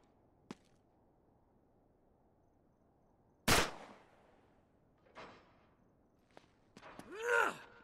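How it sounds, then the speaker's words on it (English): A single loud, sharp gunshot aimed at a lock in the action video game Uncharted 3 cracks out mid-clip and decays quickly. Faint clicks and thuds surround it, and a breathy vocal groan follows at the end. "Back up, I'll shoot the lock."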